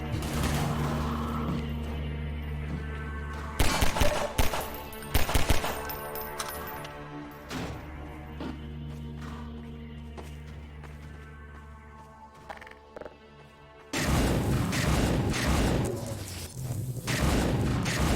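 Gunfire from a heavy-recoil weapon in a Half-Life 2 beta build comes as sharp bursts of shots over a droning game background, with louder noise returning near the end.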